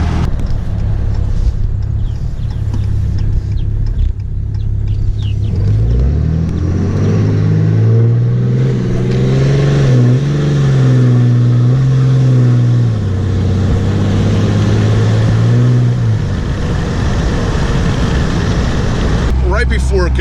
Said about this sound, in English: Right before it goes into converter lock, there's a hesitation, and it's clearly the transmission line pressure.